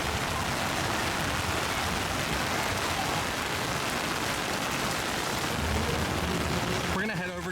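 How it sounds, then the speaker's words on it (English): A heavy summer rain downpour at a Florida theme park, a loud, dense, continuous hiss of rain drumming on surfaces, with a brief rumble and a voice starting near the end. "we are in the midst of not a thunderstorm, but a very heavy rainfall"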